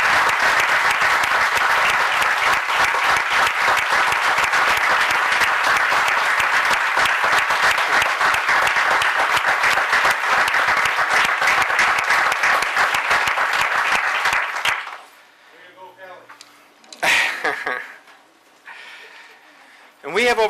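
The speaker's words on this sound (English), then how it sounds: "I want to give them a round of applause" A hall audience at a town State of the Town address gives sustained applause for a police officer and police chief, loud and even for about fifteen seconds before breaking off into quiet and a speaking voice.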